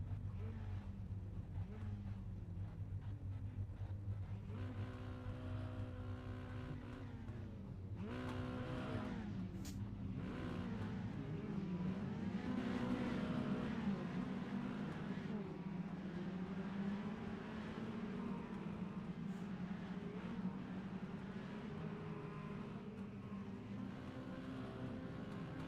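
Mini stock cars racing around Langley Speedway short track, engines droning and revving steadily as the pack circles, loud and continuous over almost half a minute with a faint commentator voice under it.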